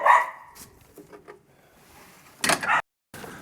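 A dog barks close by, one loud bark at the start and another short burst later, with quiet gaps and light household clatter between them.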